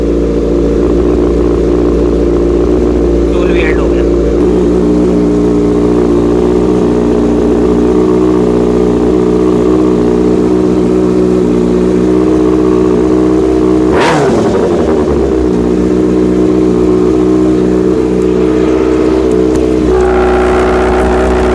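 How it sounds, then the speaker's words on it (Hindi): A 2011 Kawasaki Ninja 636 motorcycle engine starts and idles with a steady mid-pitched drone, then a sharp rev burst blips up and settles back to idle, close and loud with no talking. "मोटरसाइकिल स्टार्ट हो गया।"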